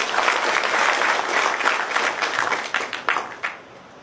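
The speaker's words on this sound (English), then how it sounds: "you clap for yourself" Applause from a seated audience at an informational talk, a dense, steady patter of many hands that thins into a few last claps before dying away.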